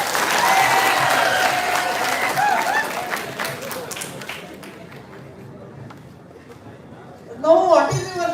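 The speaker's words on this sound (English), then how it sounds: "Clap for him, please." Audience applause in a lecture hall during a physiology teaching session, a broad steady wash of clapping that tapers off, followed by a brief spoken voice at the end.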